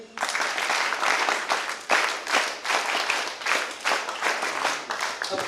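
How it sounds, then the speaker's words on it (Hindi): Audience applause at an Independence Day school event with NCC cadets. It is a sustained, dense crowd clapping that holds loud and steady with slight surges throughout. "जोरदार ताली बजाएं।"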